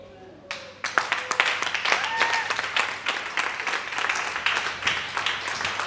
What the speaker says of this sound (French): Et je pense même que c'est toutes les dames qui allaient applaudir même pour Naomi.